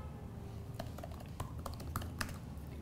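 Someone types a search query on a computer keyboard, with a quick, irregular run of light key clicks over steady low room hum and no talking.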